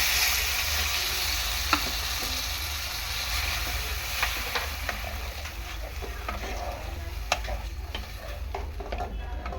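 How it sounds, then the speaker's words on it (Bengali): A potato-paneer masala sizzles steadily in a pan with a continuous hiss, a low rumble underneath and occasional sharp clicks from stirring; no voices. "এখন আমি জল দিয়ে দিচ্ছি"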